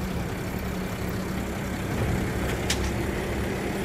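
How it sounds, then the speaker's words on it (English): A garbage truck drives past outdoors, its low engine rumble steady and fairly loud throughout, with a brief hiss or squeal near the end. "Sorry for the sound of the trash truck going by."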